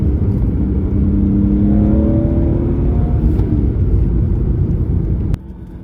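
Pontiac GXP car engine revving nearby, a loud low rumbling rise in pitch that holds for several seconds, then cuts off abruptly to a quieter background.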